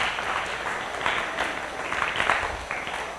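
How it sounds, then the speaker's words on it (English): Audience applause in a lecture hall after a talk on institutional racism, a steady, moderately loud patter of many hands clapping that swells slightly midway and carries on throughout. "all right, that's enough applause."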